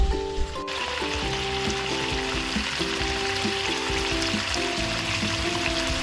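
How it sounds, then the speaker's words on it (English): Walleye fillets soaked in Frank's Red Hot fry in butter with a steady, close sizzle and crackle. The sizzle runs continuously under background music, with no talking. "Walleye fillets soaked in Frank's Red Hot, cooked in butter"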